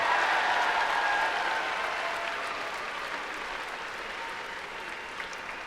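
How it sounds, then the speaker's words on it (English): A large audience at a FIRST robotics state championship claps loudly, the applause starting strong and gradually thinning out over several seconds. "let's give all of our UP teams a huge round of applause"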